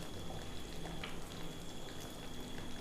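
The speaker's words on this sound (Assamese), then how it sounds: "আঞ্জাখন উতলিছে" Jackfruit seed curry with fish bubbling in a pot, a steady soft simmering and popping throughout, close and moderately quiet with no voices.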